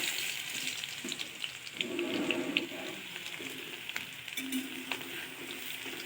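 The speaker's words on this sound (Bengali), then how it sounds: "এবার দিয়ে দেবো এর মধ্যে রসুন কুচিগুলো" Chopped garlic sizzles in hot oil in a pan for a fish dish made with rohu and catla. The frying hiss is steady and fairly quiet throughout, with small crackles and stirring noises.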